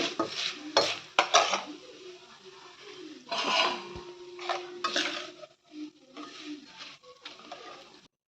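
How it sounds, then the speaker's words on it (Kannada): Avalakki (flattened rice, poha) is fried in hot oil in a pan, a bright crackling sizzle broken by metal spoon scrapes and clinks against the pan, loud and close throughout. "ಅವಲಕ್ಕಿಯನ್ನು ಹಾಕಿ ಈ ಥರ ಅವಲಕ್ಕಿಯನ್ನು ಕರಿಯಿರಿ"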